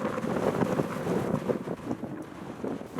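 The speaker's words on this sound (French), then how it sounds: "mais par contre, le vent est phénoménal." Strong wind batters the microphone in the Lozère hills of the Cévennes, a steady, loud low-frequency roar with rolling gusts and no voices.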